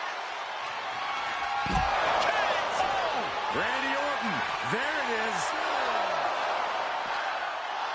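Crowd cheering from a WWE 2K25 wrestling arena, a steady roaring wall of noise throughout with a commentator talking over it.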